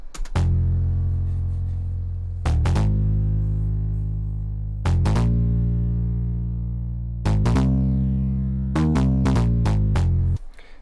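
Synthesizer bass patch with unison oscillators, run through a 12 dB low-pass filter, playing loud sustained notes in a few long phrases with quick stuttering hits near the end, with no talking.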